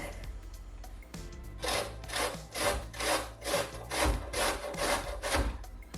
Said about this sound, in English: we're going to start by grating the zucchini.